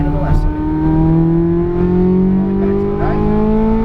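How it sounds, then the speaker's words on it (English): A race car at Las Vegas Motor Speedway accelerates at full throttle: a loud, steady engine drone with stacked tones that climb gradually in pitch over about four seconds. "full throttle, all the way to the left side"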